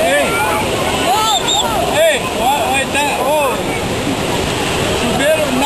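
At the Véu de Noiva waterfall, used as a natural shower, water roars loudly and steadily throughout. Several people talk and shout over the constant rush.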